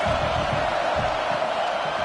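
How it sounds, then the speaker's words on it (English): A stadium crowd in a college football video game sends up a dense, steady roar against the offense, loud and unbroken throughout with no distinct voices rising above it. "This crowd trying to make life miserable for this offense."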